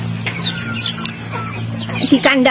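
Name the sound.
chickens clucking in coop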